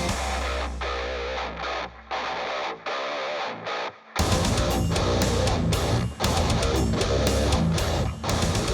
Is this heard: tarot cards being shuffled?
no